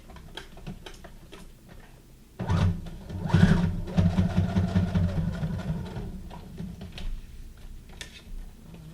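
A sewing machine stitches a zigzag seam onto a book-page junk journal envelope, starting after a quieter ticking stretch and then running steadily with a rapid mechanical rhythm, close up and fairly loud, with no talk.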